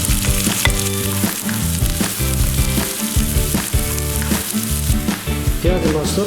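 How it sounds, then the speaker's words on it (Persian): Onions fry in a pan with a loud, constant sizzle and periodic stirring pulses for about six seconds, over a continuous tonal backing with a regular beat-like pattern. No voices are heard. "پیاز ما سرخ شده"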